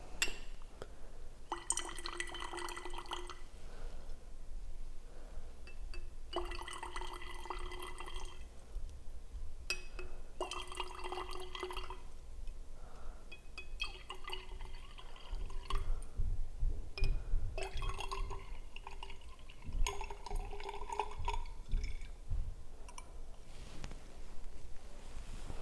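Liquid is stirred in glassware while hydrochloric acid is added, giving bursts of clinking, ringing glass tones and trickling sloshes separated by quieter pauses, close and fairly soft.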